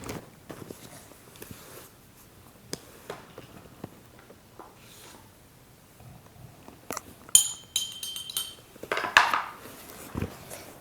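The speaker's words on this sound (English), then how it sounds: "Were you tapping the spoon in the glass?" A spoon taps a glass in a quiet room, giving scattered light clinks and some louder bright rattles toward the end, close by, separated by faint handling noises and stretches of near silence.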